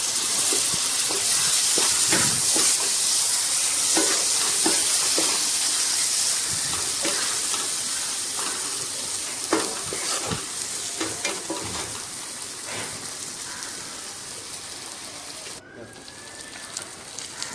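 Small fish curry with chopped tomato stir-fries in a pan with a steady hiss and repeated scraping stirs, close and loud at first, then gradually quieter, with no talking.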